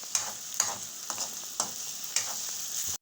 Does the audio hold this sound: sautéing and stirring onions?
yes